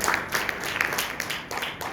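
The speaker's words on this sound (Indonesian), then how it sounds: "Tepuk tangan dulu buat Tuhan" A church audience claps for God after a prayer testimony about healing from a stroke, a dense, steady wash of many hands lasting throughout.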